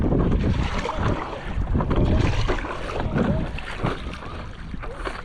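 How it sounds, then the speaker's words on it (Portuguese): A strong gust of wind buffets the microphone outdoors on the water during a boat crossing, a loud roaring rush that swells and then eases slightly toward the end. "começou essa rajada de vento"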